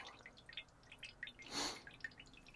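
Evapo-Rust rust remover leaking and dripping from a storage bin: scattered quiet drips patter irregularly close by, with one fuller splashing pour of liquid around the middle, otherwise faint and without speech.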